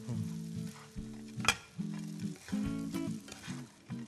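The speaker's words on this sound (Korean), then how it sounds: "이제 잔열로 요리하실 때도 계속 뒤집고 있거든요" Small anchovies are stirred and tossed in a pan over residual heat after the burner is off, with mayonnaise just added; soft sizzling sits under irregular scraping and stirring, with one sharp clack near the middle.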